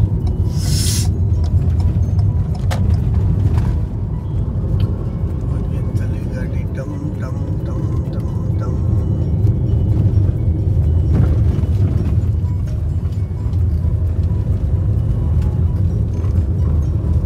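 Ford EcoSport driving on a smooth road near Rewari, a steady engine and tyre rumble from inside the cabin, continuous throughout with people talking over it.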